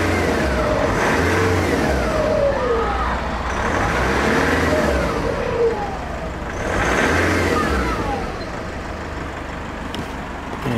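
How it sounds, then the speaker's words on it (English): A car engine idles and revs on a chilly day, its turbo spooling with rising and falling whistles over a steady low rumble, loud and close, swelling in a few slow waves. "Now I can just hear the turbo spooling."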